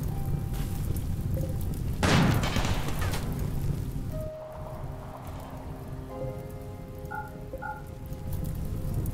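Rain falling in RimWorld, a steady hiss of rainfall with a sharp crash early on, then softer rain with small tonal game chimes over it, no talking.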